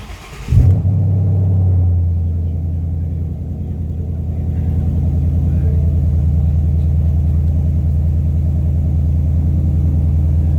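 Push-button start of a 2016 Ford Mustang GT, the engine catching with a loud burst and settling into a deep, steady rumbling idle that stays strong and continuous.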